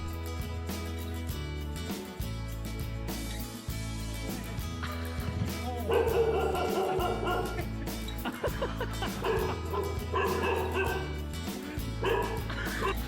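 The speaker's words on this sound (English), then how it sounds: "The shelter recently received 4 new puppies that were found abandoned at a waste dump site." Rescued dogs at a shelter in Thailand bark and yip repeatedly. The barks sound fairly close and come in bursts against steady background noise, with some whimpering between them.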